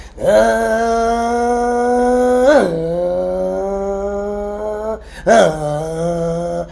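A voice imitates a car engine, a sustained droning hum that rises in pitch and drops sharply twice, like shifting gears, close and fairly loud.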